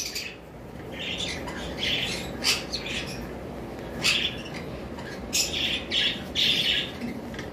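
A pair of bonded green lovebirds give repeated harsh, shrill squawks in short bursts over a constant background hum, calling close by at irregular intervals.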